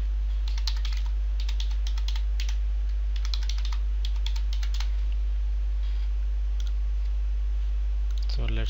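A computer keyboard being used to type a password, with clusters of quick, crisp key clicks in uneven bursts over a steady low hum, growing sparser toward the end.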